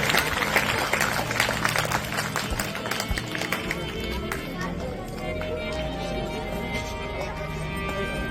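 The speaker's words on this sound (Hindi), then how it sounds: "जोरदार तालियां से स्वागत करेंगे।" A crowd claps loudly and steadily at first at a Shri Ram Katha religious gathering, the applause gradually thinning out as a voice carries on over it.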